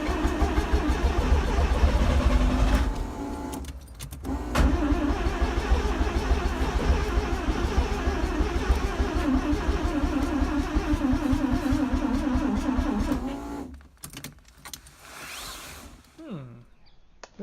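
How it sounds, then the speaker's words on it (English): A Mazda RX 323 engine under restoration repeatedly cranks and churns without catching, a long steady grinding whir that cuts out, followed by a few brief sputters and clicks. "find out why the car's trying to start, but not really starting"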